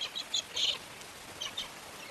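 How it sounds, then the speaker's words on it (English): Cockatiels give a few short, bright calls in quick clusters over a soft background of rain in the Australian outback. "And cockatiels celebrate with a rain dance."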